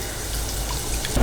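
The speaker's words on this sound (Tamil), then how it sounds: "இன்னும் கொஞ்சம் தண்ணி ஆட் பண்ணிக்கலாம்" Water pours steadily into a cooking pan of brinjal gravy with a splashing, gurgling rush, close and fairly loud, ending in a brief louder splash.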